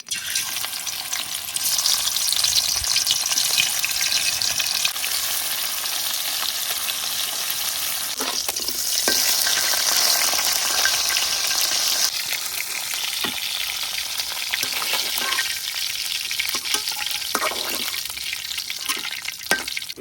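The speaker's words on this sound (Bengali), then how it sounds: "এখন আমি মাছগুলারে হালকা একটু ভাজে নিলাম।" Fish coated with turmeric and salt frying in oil in a wok, a steady bright sizzle with crackling pops running throughout and no talk.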